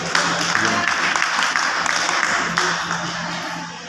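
Audience clapping in a hall during a motivational leadership talk, a dense steady wash of hands that thins slightly toward the end.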